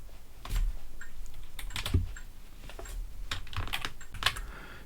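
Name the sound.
typing a command on a computer keyboard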